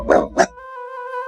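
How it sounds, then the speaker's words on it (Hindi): Dog barking, two quick close yips followed by a sustained tonal whine. "ये कुत्ते भौंक क्यों रही है?"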